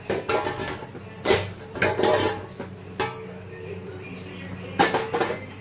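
A utensil stirs mutton in a cooking pot, producing scattered metallic clinks and scrapes in irregular bursts over a low steady background hum.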